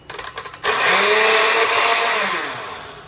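A countertop blender whirs steadily as it purées a blueberry protein smoothie with spinach and coconut water, starting abruptly after a few faint knocks and running loud and continuous to the end.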